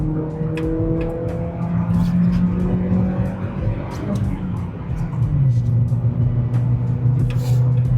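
A Peugeot 406 accelerating on the road, heard from inside as a steady engine drone whose pitch climbs and drops through gear changes, with road rumble underneath.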